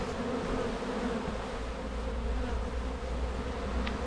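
A swarm of honeybees recovered at an apiary near Royan moves into a hive, producing a dense, steady droning hum of many bees up close, continuous and unbroken, with no voices.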